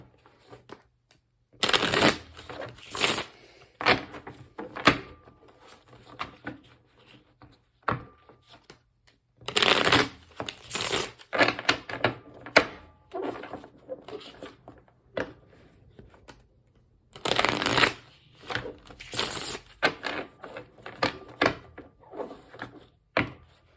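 Tarot cards from a Witch's Tarot deck being shuffled up close in repeated bursts of riffling and sliding, separated by quiet pauses with occasional light handling taps.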